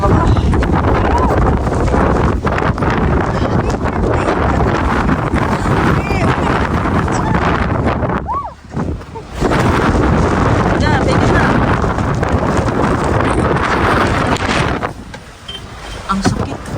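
Strong Greenland wind of about 30 meters per second batters the microphone in a loud, continuous roar, drops briefly midway, then surges back and eases near the end, with no voices.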